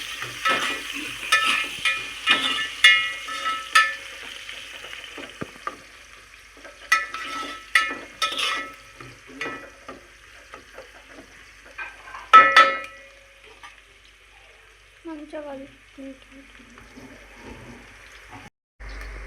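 Chicken biryani ingredients are stirred and mixed in a pan, with repeated scraping strokes and soft sizzling that come in bursts, then fade to quieter, sparser stirring.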